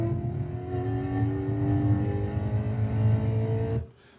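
A race car at full throttle through turn 9 at NCM, its engine a loud, steady, close drone with a slowly climbing pitch that cuts off abruptly near the end.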